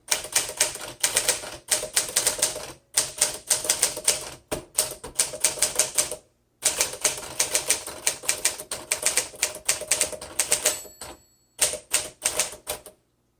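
A 1953 Smith Corona Sterling 5A manual typewriter typing in quick bursts of sharp clacking keystrokes, close and loud, broken by short pauses and a brief bell-like ring near the end.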